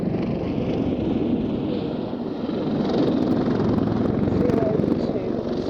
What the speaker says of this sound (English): Now, you don't normally see helicopters doing that.